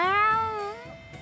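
A cat in the video game Tales of Xillia 2 gives a single clear, drawn-out meow up close, with quiet game background underneath.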